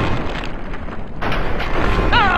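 A flamethrower in the Fallout video game lets out a roaring burst of fire, a loud, sustained whoosh that swells over about two seconds, with a faint high tone rising near the end.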